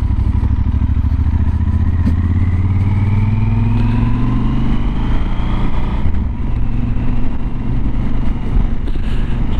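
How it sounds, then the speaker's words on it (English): A Yamaha 1200 Super Tenere motorcycle engine thrums steadily while riding, its pitch rising through the gears then settling, loud and close with wind noise. "Hope the microphone can pick up the engine."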